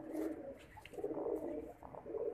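A breeder pigeon coos softly and faintly in low, murmuring bursts, with no other sounds around it.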